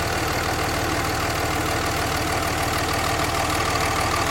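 A warm third-generation Ram diesel truck engine idles steadily with the oil cap off for a blow-by test, giving a continuous, loud, even rumble with a faint rhythmic knock throughout and no talking.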